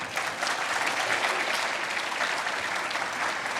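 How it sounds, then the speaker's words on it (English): Sustained applause from a conference audience at a product marketing summit in London, dense and loud clapping that holds steady for several seconds with no voices over it. "Can we give one more round of applause?"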